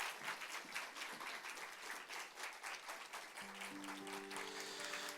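A concert audience applauds a Korean worship singer, with dense, steady clapping from a crowd throughout and sustained instrumental tones entering softly near the end.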